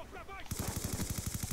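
Rapid automatic gunfire in the video game Black Squad during team deathmatch, a fast burst of about a dozen sharp shots after a brief moment of quieter talk.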